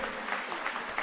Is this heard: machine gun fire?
no